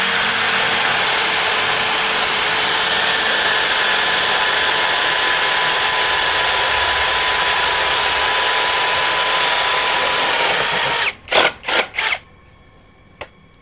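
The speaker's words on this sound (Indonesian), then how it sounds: "ini bor kipas 18 mili" A Makita LXT power drill boring with an 18 mm spade bit in speed 2 drilling mode runs continuously with a loud, steady whine for about eleven seconds, then stops with a few short trigger bursts.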